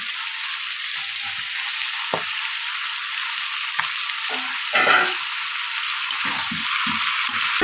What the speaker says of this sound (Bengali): মশলাগুলোর সাথে মাংসটাকে ভালো করে ভেজে নেব